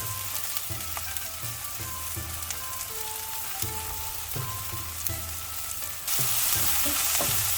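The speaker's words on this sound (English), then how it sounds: "put your chopped spring onion and start stirring it" Chopped spring onion is stirred and sautéed in a hot pan for a keto spring onion egg scramble: a steady sizzle under repeated scraping strokes of the spatula, growing brighter and louder near the end.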